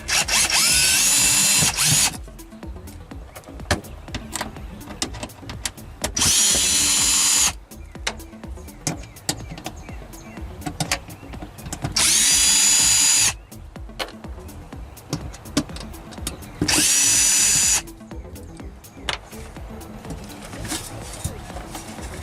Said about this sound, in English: Now I'm going to remove these 4 screws.